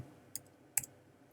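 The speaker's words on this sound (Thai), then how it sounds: "เราก็ต้องกด ลูกศรบนคีย์บอร์ด ทางด้านขวา 2 ครั้ง" A computer keyboard's right arrow key is pressed twice while working in a design program, giving two short, crisp clicks about half a second apart in an otherwise quiet room.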